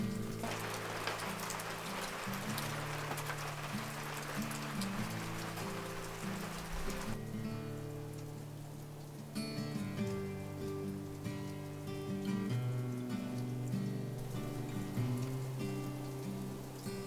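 Steady rain patters outside a Transit van in Montana, a dense continuous hiss of drops on the surface with no voices, holding at an even, moderately loud level throughout.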